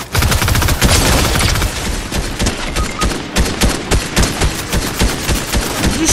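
Dense, rapid gunfire from a video game, bursts and volleys crackling close and loud almost without pause for the whole stretch, with no talking.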